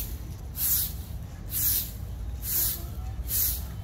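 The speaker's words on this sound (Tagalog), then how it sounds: "Nakaka-relax yung tunog ng pagwawalis" A broom sweeps the ground at an outdoor garden plant market in Quezon City, giving four evenly spaced, soft bristly swishes over a steady low background rumble, with no talk.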